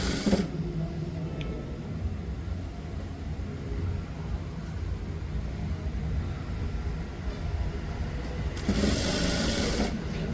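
A sewing machine stitches cloth during a tailoring lesson on garments such as pants, shirts and coats, running with a steady, continuous mechanical whir and faint clatter for the whole stretch, close by and with no talking.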